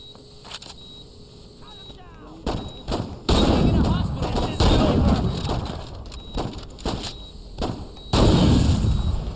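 Saints Row 2 gunfire: several loud, sharp broadband bursts land at intervals over in-game voices and background game noise, with dense booming bursts near the end.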